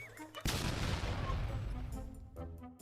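A single heavy Italian cannon shot cracks out sharply after a short pause, then booms and rumbles away over about two seconds before fading.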